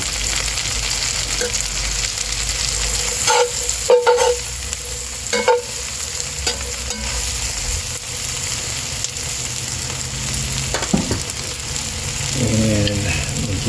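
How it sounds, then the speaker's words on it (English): Mushrooms and onions fry in a Lodge camp Dutch oven with a steady, close sizzle that runs throughout, broken by a few knocks and scrapes of a utensil stirring the pan, then a louder burst of hissing near the end. "these onions are kind of about halfway there, so I think I'm gonna add these the mushrooms in."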